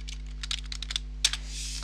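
Quick, light keystrokes on a computer keyboard, a rapid irregular run of soft clicks close to the microphone over a low steady electrical hum.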